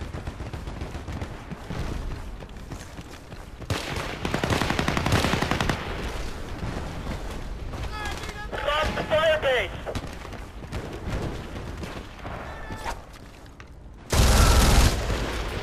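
Gunfire in the online shooter Battlefield Play4Free: bursts of automatic fire and heavy booms from a game battle, with loud close volleys, a whistling sweep mid-way and a sharp blast near the end, some talk underneath.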